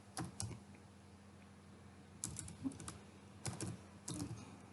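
Keys clacking on a computer keyboard while code is written, coming in three short bursts of quick taps with quiet pauses between them, close and fairly soft.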